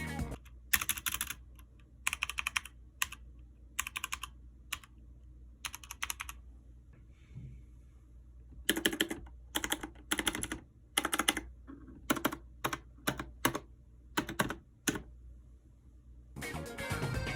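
Loud arrow keys on a leverless arcade-style fighting game controller being pressed, clacking in quick clusters and rapid bursts separated by short quiet gaps, close and alone.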